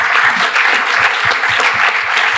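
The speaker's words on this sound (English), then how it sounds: "I want a round of applause for this amazing guy and for these amazing speakers" Loud, steady applause fills the room at a developer conference roundtable in Porto, a thick sustained clatter of many hands clapping at once.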